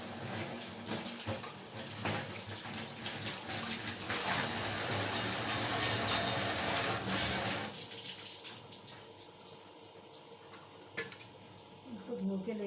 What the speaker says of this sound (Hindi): मैं सुना इनको ज़रा धो लूँ अंडों को।